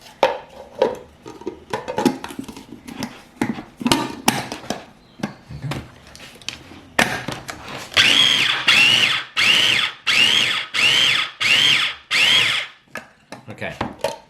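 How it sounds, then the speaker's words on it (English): A food processor pulses chicken liver pâté in about six short, evenly spaced bursts, loud and close, following a stretch of quieter kitchen clatter. "only a few quick pulses and you can see it's quite a coarse pate at the moment"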